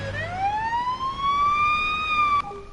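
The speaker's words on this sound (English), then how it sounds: "let's just hope that I'll just that siren is just" A police car siren in the Police Simulator: Patrol Officers video game wails in a long rising sweep and holds loud and steady for over two seconds before cutting off abruptly near the end.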